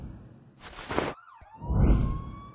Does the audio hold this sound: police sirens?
yes